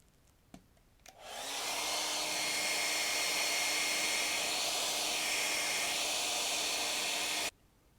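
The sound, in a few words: heat gun blowing hot air onto statue leg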